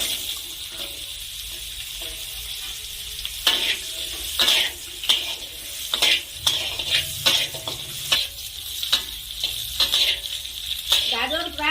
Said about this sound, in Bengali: এখন আমি আবার সরিষার তেল দিয়ে দিচ্ছি, গাজর ও বিনস ভেজে নেব।